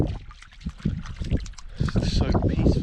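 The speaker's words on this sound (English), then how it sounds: "It's the water just rattling on the pebbles." Water of a calm mountain stream rattling over pebbles, a soft irregular trickle and patter close by, faint and growing slightly busier, with a voice talking over part of it.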